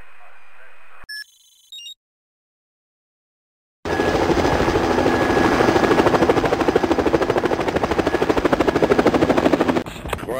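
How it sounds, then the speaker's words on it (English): Helicopter in the video game Spycraft: The Great Game, a loud, steady rotor and engine drone that starts abruptly after some short electronic beeps and silence, then runs continuously until near the end. "I've got a chopper headed your way."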